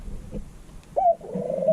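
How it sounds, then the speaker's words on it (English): Homestead doves kept in a snowy winter enclosure give a short cooing call, a brief rising coo followed by a sustained wavering coo, fairly close and alone against quiet outdoor background. "We got the doves in here."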